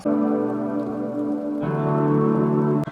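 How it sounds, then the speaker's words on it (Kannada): Steady rain pattering on a surface, even and continuous, with a brief sharp knock near the end and no voices. "ಮಳೆ ಬರ್ತಾ ಇದೆ."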